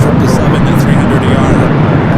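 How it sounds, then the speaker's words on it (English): A China Airlines Boeing 777-300ER lands at LAX, giving a loud, continuous broadband jet roar heard close by, with someone talking over it. "Flight 8 coming in from Taipei, the Boeing livery, China Airlines"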